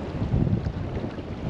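Low, rumbling warm south wind buffeting the microphone on the Ambler River, steady and close, with a faint watery wash underneath.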